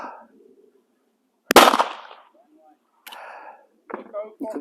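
A single sharp shotgun blast at a clay target on a shooting range rings out near and loud, decaying quickly, with someone talking briefly before and after.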